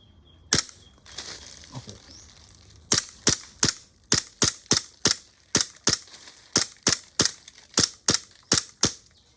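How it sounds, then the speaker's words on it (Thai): A Glock 17 BB pistol is test-fired at a bottle, giving sharp, loud, dry snaps. A couple of isolated shots come first, then a rapid, fairly even string of about fifteen cracks. No voices are heard. "เดี๋ยวผมทดสอบก๊อก17ให้รับชม"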